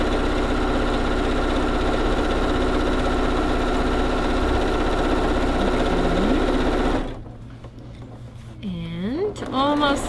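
A sewing machine stitches a quilt block with a steady, close, whirring drone for about seven seconds, then stops, leaving quieter handling sounds and a person speaking.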